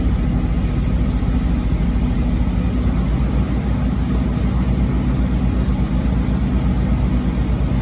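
A truck engine idles with a steady, dense rumble while its air brake pressure builds, a constant close drone with no talking.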